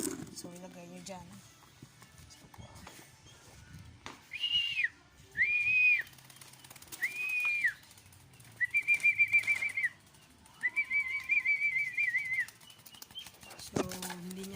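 Young pigeons in training, with a series of short whistling chirps and flutters in bursts, fairly close, while a person talks quietly in the background.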